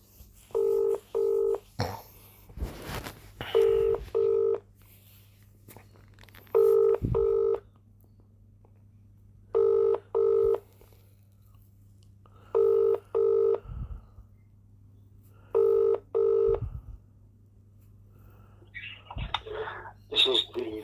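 A telephone call rings out repeatedly, paired trilling bursts at steady intervals over a low hum, with brief handling clicks and faint background noise between the rings.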